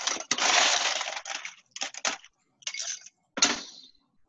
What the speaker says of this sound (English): add the ice to the larger glass.